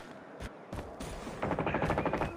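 Gunfire in Call of Duty Mobile: a few isolated shots followed by a rapid burst of automatic fire, moderately loud, with no talk.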